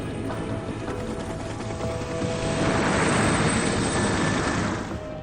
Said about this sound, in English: I thought that helicopter was going to hit the shell then.